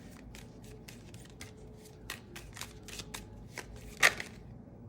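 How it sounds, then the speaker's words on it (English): Tarot cards being shuffled and pulled from the deck, soft papery flicks and riffles in a quiet room, with one sharper snap near the end. "Let's see how the cards pull today."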